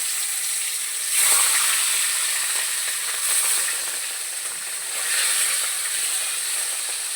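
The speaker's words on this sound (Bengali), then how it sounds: "তেলটা গরম হয়ে গেছে দেখো আমি মাছটাকে ছেড়ে দিচ্ছি" Katla fish sizzles in hot oil, a steady high hiss that swells and fades a few times, with no one speaking.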